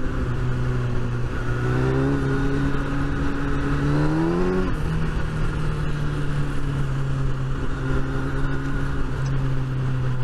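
A Kawasaki ZX10R sport motorcycle engine drones steadily while riding, its pitch climbing through a rev before settling again, loud and continuous with wind noise and no talk.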